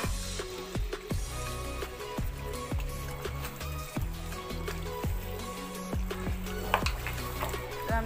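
Meat sautéed in a pan for biryani, with a continuous close sizzle broken by repeated scraping stir strokes at a steady, unhurried rhythm.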